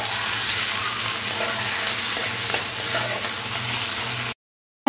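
Sliced onions and three green chilies sizzle steadily in hot oil as they are stirred, a continuous close frying hiss with faint scraping, cut off abruptly near the end.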